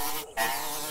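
A comedic sound effect of a fly with broken wings, a continuous close buzzing that drops out briefly for a split second and then resumes.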